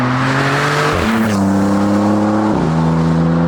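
A Novitec Maserati MC20 Cielo convertible supercar drives past close and loud, its engine droning with gear shifts that drop and rebuild the pitch in a steady, powerful growl.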